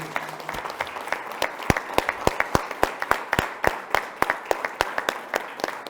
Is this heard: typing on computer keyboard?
no